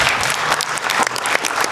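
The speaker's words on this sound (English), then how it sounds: "Let's give the panel a round of applause" An audience applauds a discussion panel at a documentary watch night, a dense, close burst of clapping filling the room without a break.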